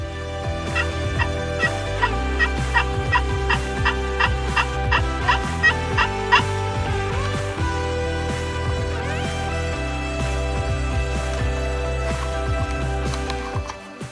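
Wild turkeys gobble near a hunting blind, loud and close, with repeated rapid gobbling bursts in quick succession over a low steady background hum.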